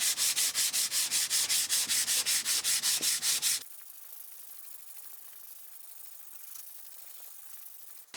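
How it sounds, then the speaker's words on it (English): Light hand sanding of dried filler over a large patched hole in an interior wall: a steady run of quick, rhythmic back-and-forth rasping strokes, close and fairly loud, stopping abruptly partway through and leaving only faint room noise. "Now that that's dried, we now just need to give that a light sanding."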